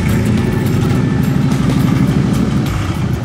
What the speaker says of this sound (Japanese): ちょっと吹かしてみてください